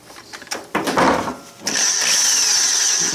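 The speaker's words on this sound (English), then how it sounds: "maybe there's something wrong with this drill." Power drill boring a hole in wood for a removable tooth plate: short bursts and a spin-up, then a steady high whine of the bit cutting, close and loud, with no talk.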